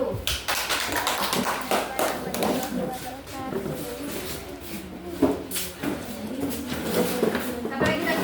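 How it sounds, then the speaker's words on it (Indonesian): Children in a classroom clap their hands in scattered, uneven bursts of close sharp claps, with lively voices talking underneath throughout. "tepuk tangan dulu"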